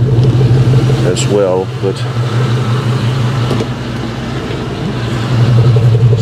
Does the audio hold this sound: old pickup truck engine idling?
yes